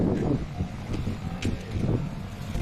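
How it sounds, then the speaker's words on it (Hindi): Wind blows outdoors in the hills, a steady low rumble buffeting the microphone with occasional gusts. "बढ़िया हवा चल रही है"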